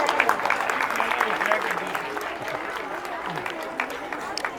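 Applause from the crowd at a Holi gathering held by a political party's women's wing, steady moderate clapping with a voice talking over it.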